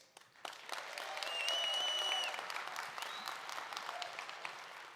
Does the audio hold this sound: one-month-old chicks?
no